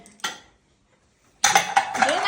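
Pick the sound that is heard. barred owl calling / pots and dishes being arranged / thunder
pots and dishes being arranged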